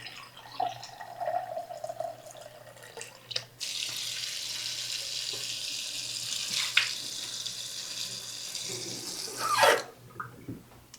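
Water pours steadily into a pot for several seconds, a continuous hissing splash that swells near the end and then stops; no one speaks.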